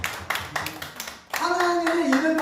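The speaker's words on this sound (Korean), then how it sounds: "박수." Church congregation clapping during a sermon, a series of distinct claps at first, then a fuller clap mixed with voices and a sustained tone.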